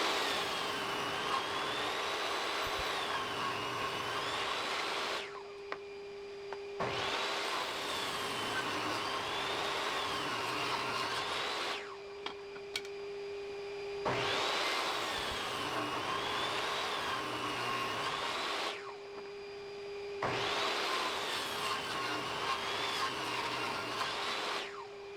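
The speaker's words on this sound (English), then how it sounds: "Rip 2 times per board to make 4 2x2s the legs." A table saw rips 18-inch 2x4 boards into 2x2 legs, four loud sustained passes each lasting about five seconds, the blade whining steadily under the cut and dropping briefly between boards; no speech.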